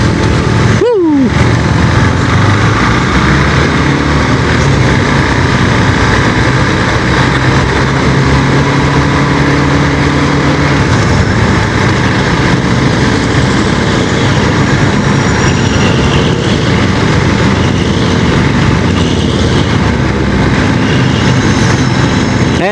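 A KTM RC390 motorcycle engine climbing uphill in first gear, a loud constant droning roar with wind rush that holds steady for over twenty seconds, close to the microphone and with no voices over it.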